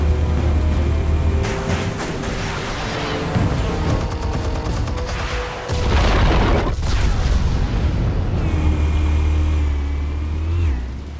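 Explosives detonating in a Batman cartoon: deep booming blasts with low rumble, one at the start and another heavy burst around the middle, loud and continuous with a roaring, engine-like tail.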